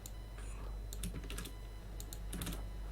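Computer keyboard typing while writing Python code: scattered bursts of crisp keystrokes in short clusters over a constant background hum, fairly close and moderately loud.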